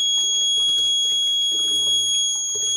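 An Arduino-based GSM fire detection system sounds its alarm, a steady high electronic tone held throughout over low background clatter and rumble, with no speech.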